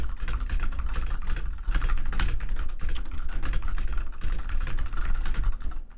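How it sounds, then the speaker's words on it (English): Steady, rapid typing on a computer keyboard, close and clear, with continuous clattering keystrokes and no talking. "I was typing away, huh?"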